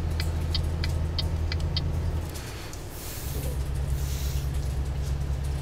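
A car engine held at full throttle on a motorway in a driving video game, a steady droning roar with a low hum that dips briefly midway then resumes, constant and close with no talk.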